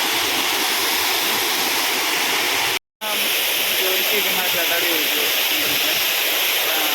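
Water pours steadily over Thirubali waterfalls in Ezhakkaranad, a loud, continuous broadband rush that fills the scene, broken only by a brief gap of silence near the middle before resuming unchanged.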